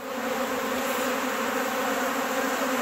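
Honeybee swarm pouring out of hives along with many drones, a dense continuous buzzing hum that stays loud and close throughout with no pauses.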